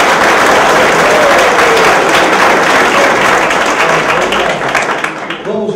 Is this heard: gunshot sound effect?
no